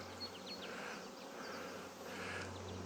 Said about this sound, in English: Live bees.